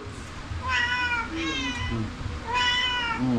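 A cat meows three times nearby, clear drawn-out cries with short pauses between them, heard alone over faint background noise.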